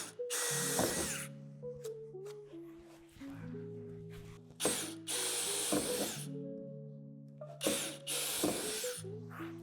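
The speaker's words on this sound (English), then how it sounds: "drill them out with the provided drill bit, only going through the first layer of metal of the tube." A power drill bores through the first layer of a metal tube in the door of a Lifetime 8 x 5 foot outdoor storage shed, using the supplied bit. The motor whines in several close, loud bursts with pitch shifts and rattly grinding, separated by short pauses.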